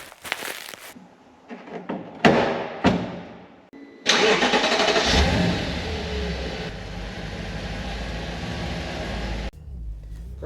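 Audi B7 RS4 starting for a test drive: a few short cranking bursts, then the engine catches with a loud flare and settles into a steady, close idle that cuts off near the end.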